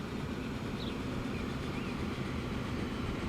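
A train rolls into a station in Transport Fever 2 as a steady, moderately faint rumble of wheels and carriages, with a few thin squeals above it.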